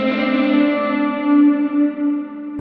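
A sustained electric guitar note through a Line 6 Helix rings out, smeared by dense repeating delay echoes with reverb on the delay feedback, a wash that keeps the tone swelling and decaying.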